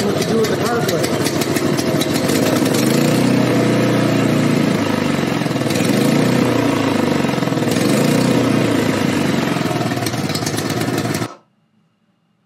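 A snowblower engine that only runs on choke roars loudly and steadily, its pitch rising and falling as it surges, then cuts off abruptly into silence.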